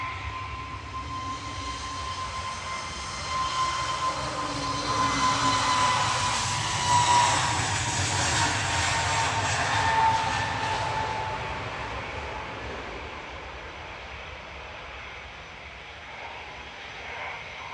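Jet2 Airbus A321neo jet airliner at Manchester Airport, engines swelling from a moderate distant rumble to a louder roar with a thin whine, then fading away again as it passes, no voices.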